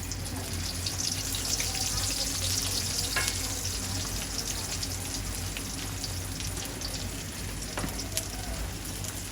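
Onions frying in hot oil in a pan, producing a dense, even sizzle like light rain that runs unbroken, close and moderately loud, with a couple of faint clinks and no clear voices.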